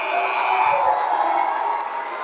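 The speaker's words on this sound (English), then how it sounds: "It's going to be Finnegan way off with an air ball. And the crowd will let him know about that one" Crowd in a high-school boys varsity basketball playoff gym reacting to an air ball, a loud burst of shouting and jeering whoops that swells briefly and then eases into a lingering murmur.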